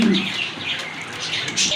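Pet pigeons at a Bangladeshi pigeon seller's, including a pair of red checker birds, make soft cooing and chirping calls that repeat throughout amid steady background noise.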